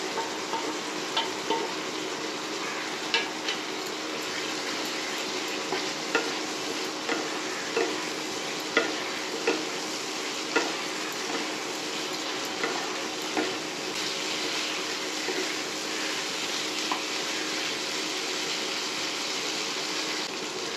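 Ground spice paste with salt and turmeric fries in a pan, a dense, even sizzle running throughout with small regular ticks and clicks of stirring scattered over it; close, steady and wordless.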